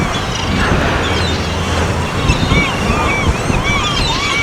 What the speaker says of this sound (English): The whale lunges up through the anchovy